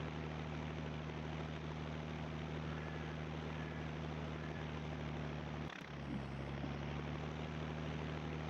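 Tractor engine in Farming Simulator 22, a steady, droning low hum that holds constant with a brief dip near the end, fairly quiet and with no talking.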